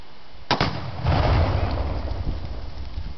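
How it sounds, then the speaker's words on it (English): A rifle shot strikes a tannerite target packed into a tree stump outdoors, giving one sharp crack followed by a rumbling blast that fades out over a couple of seconds. "You gonna shoot some tannerite in a stump."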